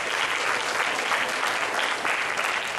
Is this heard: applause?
yes